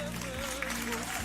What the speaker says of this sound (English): Why are you clapping for them?